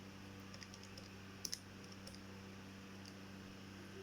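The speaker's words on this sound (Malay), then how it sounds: "Dan tekan kalkulator." Calculator keys are pressed in a quick cluster of light, close taps during a stoichiometry calculation for aluminium, two sharper presses standing out, over a quiet room hum and no speech.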